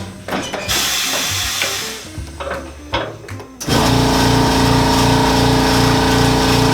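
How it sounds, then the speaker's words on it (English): A machine trims a leather shoe sole. Shuffling and handling noises come first, then the machine starts with a loud, steady close whirring drone that holds to the end. "I went ahead and started trimming this one around with this machine here"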